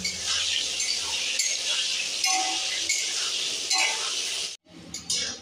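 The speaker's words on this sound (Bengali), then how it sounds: "এবার নাড়িয়ে চাড়িয়ে ভেজে নেব।" Salted potatoes fry in a pan, a steady bright sizzle broken by a few metallic clinks and scrapes of stirring, dropping out briefly near the end before resuming.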